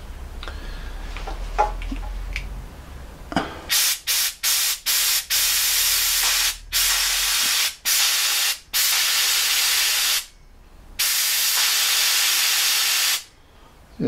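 An air blower fires into a suds pump coolant delivery line in a series of loud, close hissing blasts: several short bursts, then longer sustained rushes of air with abrupt stops, after some quieter handling noise at the start.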